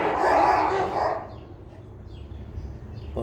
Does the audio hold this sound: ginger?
no